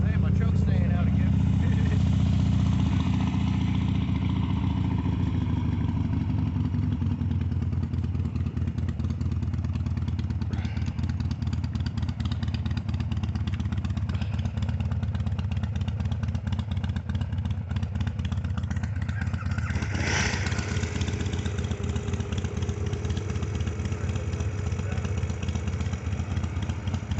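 A motorcycle engine idling with the choke stuck out, a loud, steady, chugging low rumble that runs throughout, with a brief rise partway through and people talking over it.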